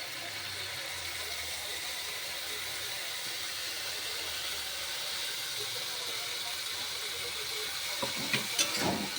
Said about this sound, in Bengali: তেলটা ছেড়ে গেলে এবার আলুটা আমি দিয়ে দেবো